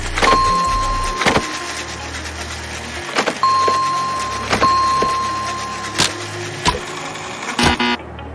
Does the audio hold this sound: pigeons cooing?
no